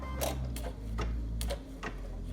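A Brother embroidery machine runs a placement stitch, giving a steady low motor hum under quick, irregular needle clicks and taps, close and moderately quiet, with no talk.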